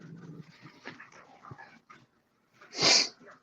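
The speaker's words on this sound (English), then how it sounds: "Sorry, my kid's playing with their dogs." Dogs play with a child nearby, giving off short whimpers, panting and scuffling, then one louder sharp bark or yelp near the end.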